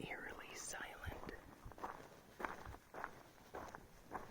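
Footsteps crunch along a quiet pine hiking trail, a slow, regular series of soft close steps, with faint whispered speech at the start.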